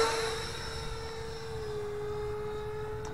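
A Freewing F-16 RC fighter jet with a 64 mm electric ducted fan on 4S power flies at half throttle, giving a steady, fairly distant high-pitched whine that hums evenly throughout with no talk.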